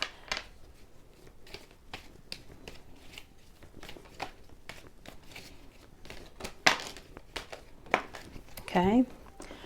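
A tarot deck is shuffled by hand in a series of soft, crisp riffles and card flicks, irregularly spaced over several seconds and close to the microphone, with a brief murmur of voice near the end.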